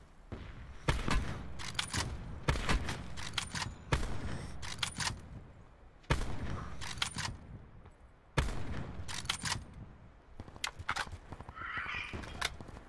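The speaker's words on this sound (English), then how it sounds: "Somebody shooting me from the left" Gunfire in Call of Duty Black Ops Blackout, several bursts of rapid automatic shots in quick volleys separated by short pauses, loud and close.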